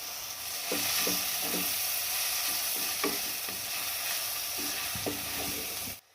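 Chopped tomatoes with a pinch of turmeric frying in a pan for a Kerala-style squid curry, a steady sizzle broken by several stirring scrapes, close and alone without talk.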